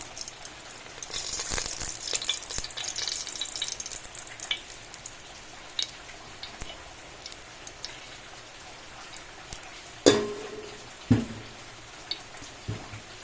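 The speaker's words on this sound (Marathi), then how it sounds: "गायज हे पळय फोडणे खातीर तेल घालता तोपान." Cooking oil heating in a pan for tempering before onions go in, for a Goan mushroom curry: a soft, steady crackling sizzle with scattered spits, plus a couple of sharper clinks of a utensil near the end.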